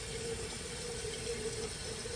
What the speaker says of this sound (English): So this time I'm gonna let the tank fill